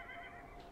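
A short horse whinny from the video game Beyond: Two Souls rings out, fairly faint, with a quavering high tone over a low rumble.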